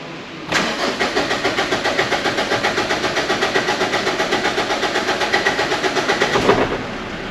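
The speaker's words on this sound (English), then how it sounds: "We want to crank it over, get it started." A Mitsubishi Triton's 4M41 3.2-litre diesel engine cranks loudly after fresh fuel injectors are fitted, the starter churning in a steady rapid rhythm for about six seconds before the motor catches and the cranking stops.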